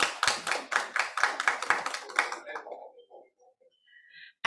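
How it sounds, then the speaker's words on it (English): Hands clap in a quick, rhythmic burst at a graduation ceremony, loud and fairly close for about two seconds, then the clapping thins out and fades to near silence. "Let us give her a round of applause."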